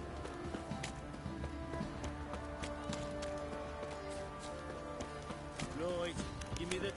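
Horses walk and trot in The Witcher video game, giving soft, steady hoof clops under game music. Characters talk over the hoofbeats.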